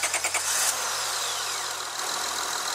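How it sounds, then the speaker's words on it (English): A Honda Accord engine cranks with a few quick starter pulses, then catches and settles into a steady idle with a whining, humming tone, heard up close. "So we're gonna start her up, let her run, make sure she doesn't overheat"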